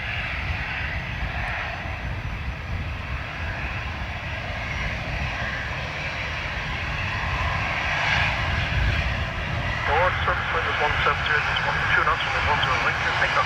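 Lufthansa jet airliner bound for Frankfurt roars steadily at Dublin Airport on a wet, windy day, a continuous engine drone that swells slightly toward the end, with a voice speaking over it.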